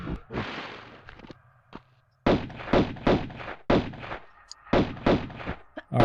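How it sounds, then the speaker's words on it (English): Pistol gunfire in Tomb Raider 1 at the Palace Midas level, a rapid series of close, loud shots fired in bursts with short pauses between them. "let's take them out with our pistols"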